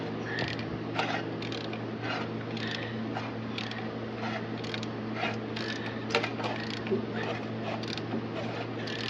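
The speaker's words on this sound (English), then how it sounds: "I'm going to put a ratchet on here and we're going to give it a 360." Steady mechanical clicking and creaking as a 1976 Chevrolet Nova engine with some compression is slowly turned over by hand with a ratchet, over a low continuous hum.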